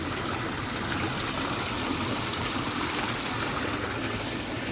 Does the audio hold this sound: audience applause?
no